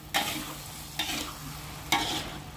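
Squid stir-fry in sweet soy sauce is stirred in a pan in three distinct scraping strokes, each a soft sizzling swish over a quiet, low background.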